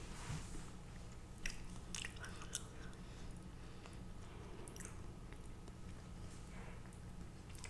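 Polish milk candy gets chewed and crunched close to the mic, with repeated crisp bites and wet chewing over a soft, steady background.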